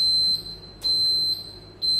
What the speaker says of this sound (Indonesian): Kemudian tekan tombol reset untuk mematikan alarm.